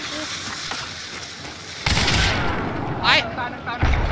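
Gunfire in the online shooter Hunt: Showdown, with a sudden loud burst of shots and a few sharp cracks over steady game ambience, and players talking quickly over it.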